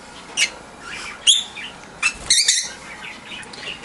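Pet parakeets give sharp, shrill squawks and chirps in scattered bursts, about five close calls separated by brief pauses, with no talking.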